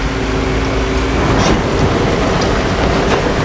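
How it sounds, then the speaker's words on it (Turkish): Steady, loud rain in the Construction Simulator video game, a dense unbroken hiss of drops that fills the whole stretch with no voices. "Ya yine yağmur yağmur"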